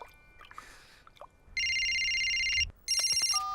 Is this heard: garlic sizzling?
no